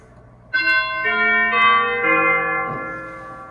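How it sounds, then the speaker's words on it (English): Chimes stop on a Rodgers 790B organ strikes four bell-like notes about half a second apart, each ringing on and overlapping the last before fading slowly, heard close with no talking. "Others include behind the chimes here."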